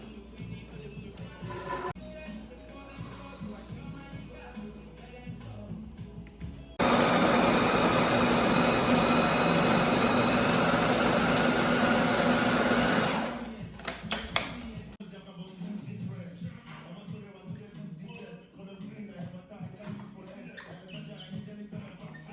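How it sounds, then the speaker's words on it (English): A blender purées white beans, red bell peppers, onions and èlèwè peppers for moin moin, roaring loud and steady for about six seconds in the middle before cutting off, with quieter kitchen handling sounds before and after. "we're going to put them all in the blender and then blend"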